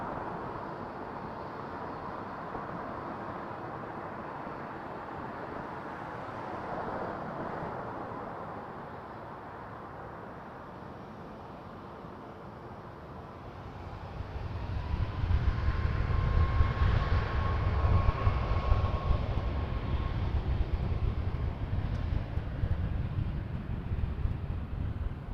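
An airliner rolls and climbs away from runway 23 at Toronto Pearson, a distant wash of jet noise that swells into a louder low rumble partway through, heard at night from a spotting position with no talking.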